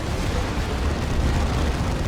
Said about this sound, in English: double plasma cannon shots on those Ogryns is painful.